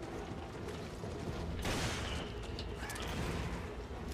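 Mechanical clicks and ratcheting of a Magnum revolver being reloaded in Resident Evil: Revelations, set against a steady roar of game ambience and gunfire-like bursts.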